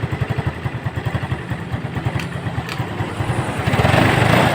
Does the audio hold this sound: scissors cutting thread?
no